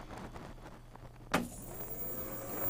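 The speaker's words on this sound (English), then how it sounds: "Hear the fans coming on." Cooling fans in a Star Wars Episode 1 Pinball 2000 machine spinning up: a sharp click and thump, then a steady whooshing hum that grows slightly louder and continues.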